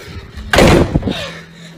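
A single heavy slam at mid-clip, a broad burst that rings briefly and fades into a low room hum.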